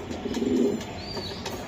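A racing pigeon's soft, low cooing swells once near the start and then fades under faint background noise.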